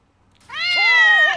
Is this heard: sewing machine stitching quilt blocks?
no